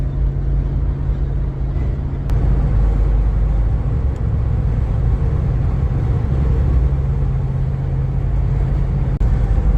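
A Jeep engine rumbles steadily while driving, a loud continuous low drone with road noise and a couple of faint clicks, no voices.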